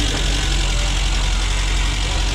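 A car engine idles steadily while warming up, a close, even drone with a faint knocking texture and no break in its level.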